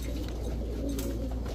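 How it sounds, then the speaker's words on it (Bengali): A club-tagged male Army breed pigeon gives a low, close coo that lasts a brief moment against steady background noise. "দেখেন একটা ক্লাবের সিলমারা একটা নর কবুতর"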